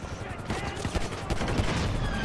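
Rapid bursts of gunfire from the video game GTA 5 crackle loud and close in a dense volley, layered over other game noise.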